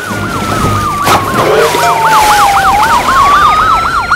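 Marine police boat siren wailing loudly and steadily, a rising and falling electronic warble repeating in quick cycles, close and dominant over a busy background.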